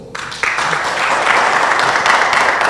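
Studio audience on a live morning television show applauding, a dense steady wash of clapping that swells after a brief start and holds loudly throughout, with no voices over it.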